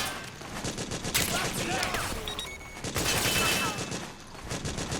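Battle gunfire in Metal Gear Solid 4 on PS3, dense overlapping rifle and machine-gun bursts rattling almost continuously, with shouted voices mixed into the firefight.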